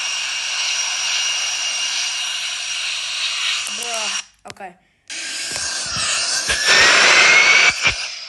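Jet engine of an airliner at full power in a flight simulator video game, a steady whining drone with a tonal whine, briefly cut out, then returning louder with a rising pitch, while someone speaks briefly over it.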